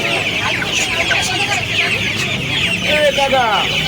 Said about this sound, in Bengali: এখানে মুরগি আছে আপনাদের দেখাচ্ছি